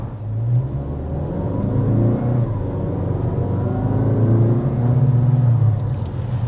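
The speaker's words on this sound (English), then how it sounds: "even when you don't go full throttle, it just has so much torque that it really feels powerful" A 2025 Mazda CX-5 Signature accelerates, its engine giving a steady, loud low rumble and drone that swells slightly and holds throughout, with no talking.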